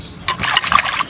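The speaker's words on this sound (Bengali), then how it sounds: "পেঁয়াজকলিটা এবার ধুয়ে নিই," Spring onion greens rinsed under running water, a brief close splashing and trickling burst of about a second with no voices.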